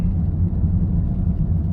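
Deep, steady V8 engine rumble from a Bentley Continental GT, a low throaty roar building as it accelerates, heard from inside or close by.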